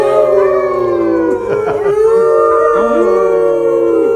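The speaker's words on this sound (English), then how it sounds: "Interestingly enough, their howls are also completely different than that of the gray wolf." Cloned dire wolves from Colossal howl together in several loud, overlapping voices, long wavering tones rising and falling and sliding across each other without a break for about four seconds.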